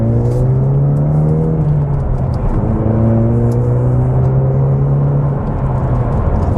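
A 2020 Ford Mustang EcoBoost 2.3L High Performance Pack in Sport Plus mode drones steadily from inside the cabin on a back road, its engine note holding a low, slightly rising hum with road rumble underneath.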